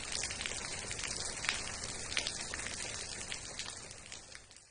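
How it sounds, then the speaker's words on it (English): Rain patters down as a storybook sound effect, a soft, continuous shower of small drops tapping on a surface, fairly quiet and without any voice. "where the plip-plopping rain patters down from the sky"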